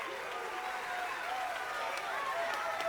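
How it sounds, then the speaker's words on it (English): A game audience in a mecha title claps in a dense, steady patter of applause throughout, sounding like a crowd at a Broadway-style musical, with faint talk underneath. "Oh, everyone else is clapping. I should too."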